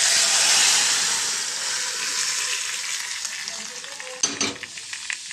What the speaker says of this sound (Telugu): ఇప్పుడు పప్పు వేసేద్దాం దీంట్లో.